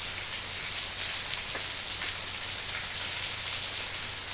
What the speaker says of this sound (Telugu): ఇక్కడ చూడండి వర్షం ఎట్లా పడుతుంది